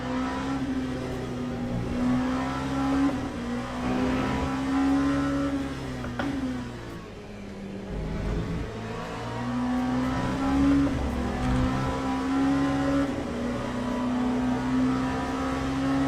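A GTE race car engine in the Le Mans Ultimate racing game revs and drones for about sixteen seconds, its pitch climbing in repeated gear pulls, dipping briefly midway as it backs off, then rising again.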